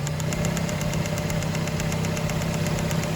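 An idling car engine with a misfire runs with a fast, even ticking over its steady hum, close and continuous.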